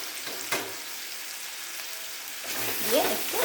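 Tomato masala with salt and turmeric frying on low gas as it is stirred, a soft steady sizzle with occasional scraping and a slightly louder stretch toward the end.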